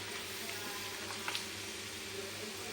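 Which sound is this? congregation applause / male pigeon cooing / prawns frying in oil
prawns frying in oil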